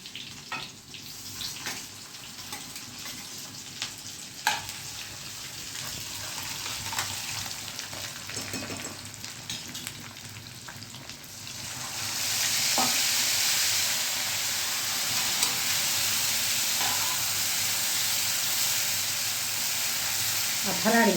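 Green chillies and curry leaves sizzle in hot oil for a farali potato shak, a steady frying crackle with a few sharp pops that swells into a louder, denser hiss about halfway through.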